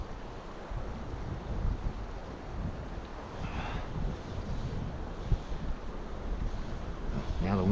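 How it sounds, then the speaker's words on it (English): Wind on the South Platte River in Cheeseman Canyon, a steady rumbling buffet against the microphone that persists throughout with a faint rushing wash underneath. "Now the wind's changing directions again."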